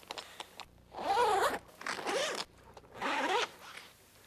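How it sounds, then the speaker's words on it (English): Side window zipper on a 1997–2006 Jeep Wrangler TJ soft top being unzipped, three distinct zipping pulls of about half a second each, close and crisp, separated by brief pauses. "Release the Velcro flap and start to unzip them from the rear."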